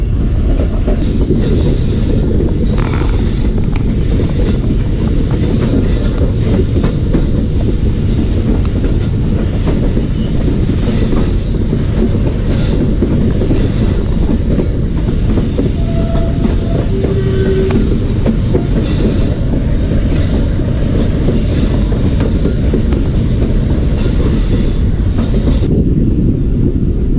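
A Pakistan Railways passenger train on the Quetta to Chaman line rumbles steadily along the tracks, loud and close, with a constant heavy roar and rhythmic clicking of wheels over rail joints throughout.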